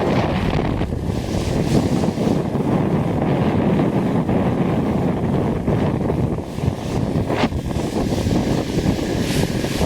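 Strong wind of around 20 miles an hour buffets the microphone on a fishing boat on Patoka Lake in a constant loud roar, with a faint hint of water and motion underneath, no talking.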